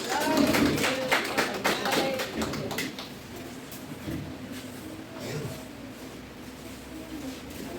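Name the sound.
congregation applauding in church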